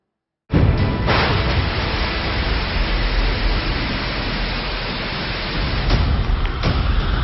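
Heavy monsoon rain pours in a steady, dense roar after a sudden start, loud and continuous with brief surges, no voices.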